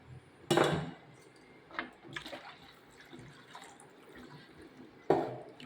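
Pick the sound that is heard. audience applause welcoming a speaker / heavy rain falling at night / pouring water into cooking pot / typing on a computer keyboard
pouring water into cooking pot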